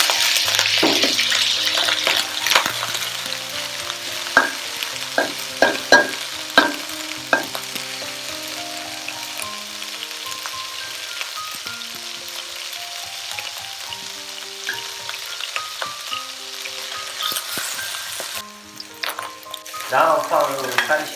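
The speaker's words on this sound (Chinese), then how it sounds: "放入锅中炒一下" Minced meat stir-fries in a hot wok, sizzling steadily and loudly throughout, with repeated scraping and clacking of a spatula against the pan.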